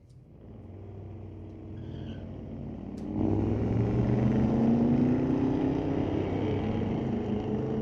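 Drag race cars, including a 1978 Ford F100 and a 1994 Mustang GT, launch off the line at Mission Raceway Park, their engines roaring up to a sustained rising drone from a middle distance.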